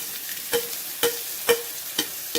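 Onions and chopped green chillies being stir-fried in a pan for curry leaf chicken, with a soft sizzle beneath about five sharp, evenly spaced spatula scrapes and clacks, close and moderately loud, no voices.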